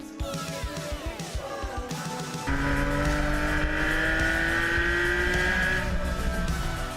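A mid-engined GT3 sports car is driven hard through corners. Its engine holds a loud, steady, high-revving roar, climbing through the gears with brief shifts and a hint of tyre noise.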